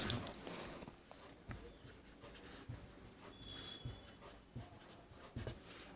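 Chalk or marker writing on a board during an engineering mathematics lecture on matrices, heard as soft scratchy strokes and taps in an irregular rhythm, fairly faint and close, with no talking over it.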